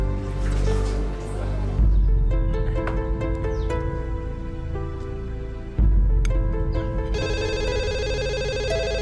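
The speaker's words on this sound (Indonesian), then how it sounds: "Saya terima telepon dulu." An indoor telephone rings in repeated electronic bursts separated by short pauses, and a higher, warbling ringtone-like pattern follows at the end. The ringing is clear and close, with no talking.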